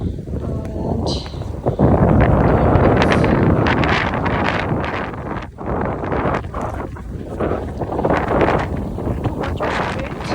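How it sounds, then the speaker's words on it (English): Strong wind gusting through a snowstorm at about -25°C on a morning walk outdoors, a loud continuous roar buffeting the microphone with steady rushing and brief dips. "too much of wind."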